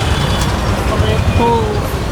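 Steady roar of busy street traffic in Lucknow, India, with bus and car engines rumbling and a few horn-like tones rising above the din, while people talk nearby.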